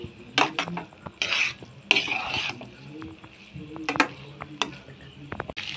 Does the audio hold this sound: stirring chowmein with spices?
yes